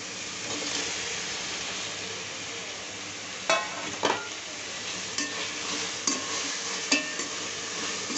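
Chopped tomatoes fry in a pan for mushroom biryani, a steady hissing sizzle broken by a few sharp clinks and scrapes of a stirring spoon against the pan.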